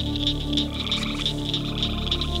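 A frog croaks in a steady, repeating pulse over a constant outdoor hum, each call clear and close with no talking.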